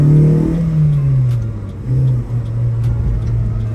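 A K-swapped Honda Civic out on a drive, its engine humming up and easing back as it revs, with a steady close rumble under the cabin.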